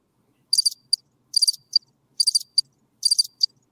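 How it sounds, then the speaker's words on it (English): Cricket chirping sound effect plays in four evenly spaced bursts of rapid high trills, each followed by a short single chirp, clear and isolated against silence. "Do the crickets again."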